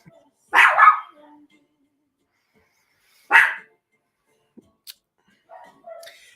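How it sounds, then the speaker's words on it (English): Dogs bark at trick-or-treaters on Halloween night in two loud, separate bursts a few seconds apart, with quieter clicks and faint movement afterward. "Oh, the trick-or-treaters are making my dogs lose their shit."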